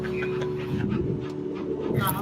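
A dog pants close to the mic while licking and giving kisses, with a person talking over it throughout.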